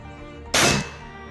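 A single sharp air gun shot firing a JSB pellet, close and loud, a brief crack with a short tail against a quiet room.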